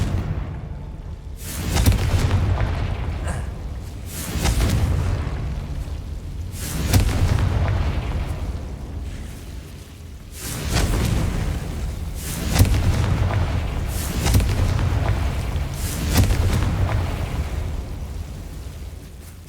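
Confringo fire spell explosions in the video game Hogwarts Legacy on PS5: loud, deep booms land every two to three seconds, each swelling into a rumbling blast over a continuous low roar.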